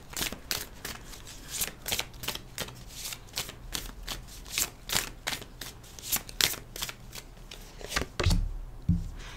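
A tarot deck is shuffled by hand in quick, crisp bursts of riffling and slapping cards, repeating roughly twice a second, close and clear, ending in a couple of heavier knocks as the deck is squared.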